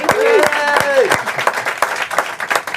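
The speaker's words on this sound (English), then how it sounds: "let's give them a round of applause real quick" A live podcast audience cheers and claps for guests; vocal whoops and calls ring out over scattered, distinct hand claps that thin out into individual bursts.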